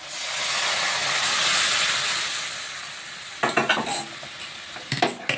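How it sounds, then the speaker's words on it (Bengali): Tur dal poured onto fried spices sets off a loud steady sizzle and hiss in a cooking pot, which eases off, followed by a few scraping stirs of a spoon against the pan near the end. "এখন আমি এই তরকার ডালটা দিয়ে দিচ্ছি।"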